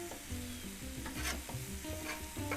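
Scrambled eggs sizzle in a hot, oiled pan as shrimp fried rice is cooked, with a spatula scraping and stirring in a steady rhythm. Close, constant frying hiss, no voices.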